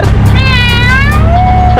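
A person mimics a cat's meow twice with rising and falling wavering cries inside a moving auto rickshaw, loud over the constant rumble of the engine and traffic.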